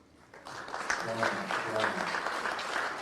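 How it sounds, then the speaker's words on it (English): Applause for the panelists at the second Mwai Kibaki Memorial Lecture and Luncheon, a steady, dense wash of clapping from a large indoor audience. It swells in after a quiet start and holds level throughout, with voices mixed in. "A big round of applause"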